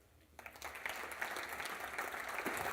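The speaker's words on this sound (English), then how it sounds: "big round of applause for Scott Whitley." An audience at a Brewbound Session in Chicago, a craft beer business conference, bursts into applause after a short quiet start. The dense clapping swells and then holds steady for the rest of the clip.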